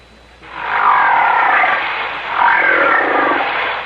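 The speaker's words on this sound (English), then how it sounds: "each sound was made by a whale" A whale gives two long, loud, growling roar-like calls, one after the other, with a brief dip in between. The calls play alone, clear and close, with no talk over them.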